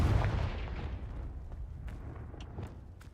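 A fire blast spell in a fantasy wizard-school video game goes off in one loud booming explosion that decays into a rumbling roar and fades over a few seconds, with a couple of faint clicks after it.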